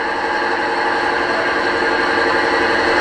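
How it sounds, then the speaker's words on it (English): The compressor sound function of an Accurascale Class 55 Deltic model locomotive, D9002 'Kings Own Yorkshire Light Infantry', gives a steady, even hiss and hum with no break, fairly loud and alone. "24 is compressor. It's most certainly a compressor."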